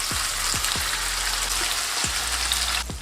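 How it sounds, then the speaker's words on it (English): Chapli kebab patties frying in a pan, with a steady bright sizzle and crackle throughout, broken by a few soft low thumps, close and without talk. "Let's fry this."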